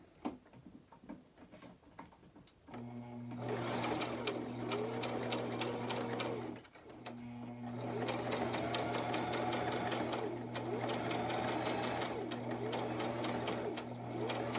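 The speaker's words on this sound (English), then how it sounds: "I'm just going to sew it right on along the edge of my presser foot here, which is about maybe 1/4 inch" A sewing machine stitches along the edge of the presser foot, joining two sides of a fabric face mask, with a steady rapid mechanical hum and clatter running in two long bursts separated by a brief pause.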